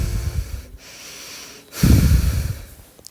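Close, loud breathing during meditation: a rough sniffing inhale and exhale at the start, a pause, then a heavier, noisier breath with a snort-like rasp near the middle, right at the microphone, no talking.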